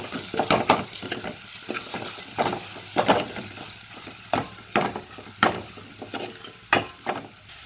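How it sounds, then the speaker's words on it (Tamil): Turmeric powder and ground masala sautéing in oil in a pan for tomato rasam: a soft continuous sizzle broken by repeated clinking spoon stirs and scrapes at an irregular rhythm, close by and fairly quiet. "மஞ்சத்தூள் நல்லா பச்சை வாசம் போகிற அளவுக்கு வணங்கினா போதும்"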